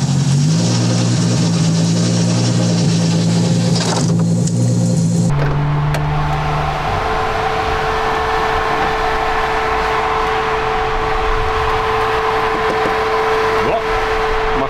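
A 1000 hp car idles and runs at a race track, its engine a loud, close, steady drone with tonal hum that shifts pitch partway through, without clear revving.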